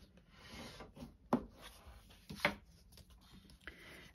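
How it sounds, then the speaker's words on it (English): Thick basic white cardstock card base folded and burnished by hand, a faint soft rubbing and scraping with two sharper scuffs, close and quiet with no talk. "I'm just going to fold it over and burnish it"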